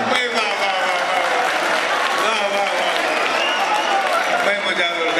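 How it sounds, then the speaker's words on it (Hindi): A mushaira audience applauds, a dense steady roar of clapping mixed with shouting and cheering voices from the crowd. "एक बार तालियां बजाते"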